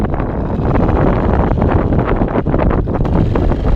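Outboard boat engine idling steadily with a new carburetor, beside the Vistula river, a continuous loud droning rumble mixed with gusty wind buffeting the microphone.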